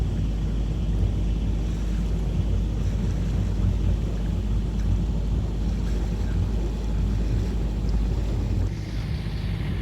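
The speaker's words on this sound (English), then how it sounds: "The engine's running nicely." A sailboat motoring under engine against a fast current near a marina in Conwy, a steady low rumble with wind buffeting the microphone and water washing past throughout, fairly loud and continuous.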